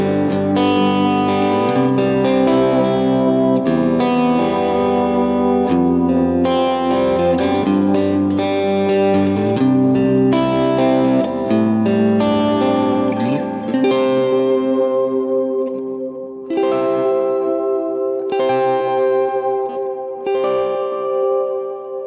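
Electric guitar played through a Kemper profile of a Vox AC30 amp, ringing chords and picked lines with chorus-like shimmer and reverb, loud and continuous with a brief drop in level near the end.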